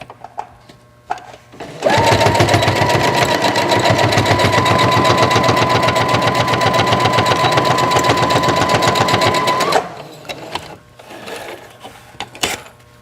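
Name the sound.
sewing machine stitching a quarter-inch seam on a fascinator hat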